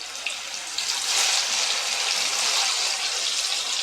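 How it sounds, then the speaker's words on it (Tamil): Jackfruit slices frying in hot oil give off a steady, loud hissing sizzle that holds for several seconds without a break, close by and heard alone. "இந்த ஆயிலோட சலசலப்பு அடங்குற வரைக்கும் நல்லா பொரிச்சுக்கோங்க."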